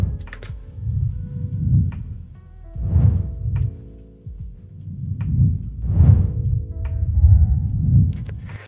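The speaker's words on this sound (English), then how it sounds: "especially super simple sounds like whooshes here" Whoosh sound effects made for drone shots in a music video, a sequence of soft airy swells rising and falling in rhythmic succession with a few light clicks, moderately loud and alone.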